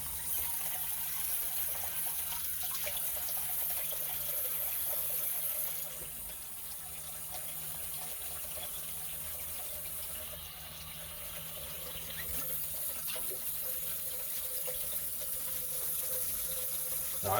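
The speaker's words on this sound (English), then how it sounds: "Now I've got warm water running in there. Got the hot and cold on." Warm water running steadily from a sink tap with hot and cold both on, a constant close rushing flow that shifts slightly in level partway through.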